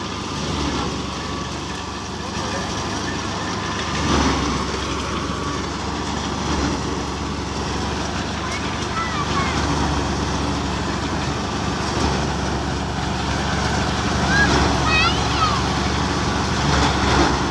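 A combine harvester works alongside a tractor to harvest a wheat field, its engine drone and threshing clatter steady and loud throughout, with a voice talking over the machinery.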